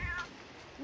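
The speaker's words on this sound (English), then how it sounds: "Beautiful cat." A cat called Mitsu gives one short meow, close and fairly soft, in a quiet room.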